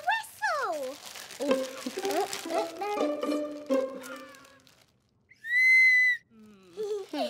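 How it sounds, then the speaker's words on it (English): A toy whistle from a children's party bag gives one loud, shrill blast lasting about a second, coming after a stretch of lively cartoon voices and high-pitched chatter, with more talk following. "Look, a whistle."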